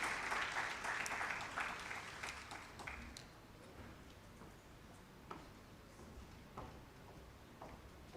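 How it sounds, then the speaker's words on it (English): Faint applause rises from the audience at a national workshop on pension schemes, a few seconds of scattered clapping that thins out into isolated late claps. "A huge round of applause for Ms. Sadia."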